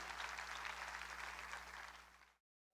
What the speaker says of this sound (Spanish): Dale fuerte ese aplauso al Rey, por favor